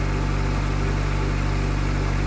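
A Daewoo Lanos car engine idles after starting, a loud steady low hum with an even throbbing pulse, close by and constant.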